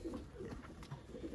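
Racing pigeons coo softly and faintly in a loft on vaccination day, a few low, murmuring calls overlapping in a quiet, steady stretch with no clear talk over them.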